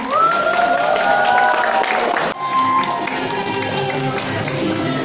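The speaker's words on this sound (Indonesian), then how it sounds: "Mari kita sambut dengan tepuk tangan yang meriah." An audience claps warmly to welcome performers at a festive Kartini competition at PT Surveyor Indonesia, with steady applause and some tonal music over it, fairly near.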